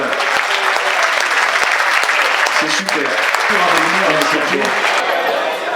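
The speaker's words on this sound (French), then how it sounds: "on peut l'applaudir, parce que" Audience applause at an orchestra concert in La Grand Combe, a dense steady wash of clapping throughout, with a voice briefly speaking over it.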